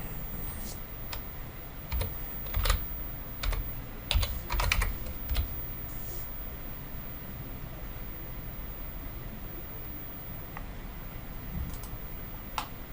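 Quiet typing on a computer keyboard while entering a value in design software: a scattered cluster of key clicks in the first half, then a few isolated taps over faint background hiss.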